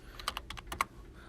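Quick keystrokes on a computer keyboard while writing in Google Docs, about eight crisp close clicks in an uneven burst, with no voice over them.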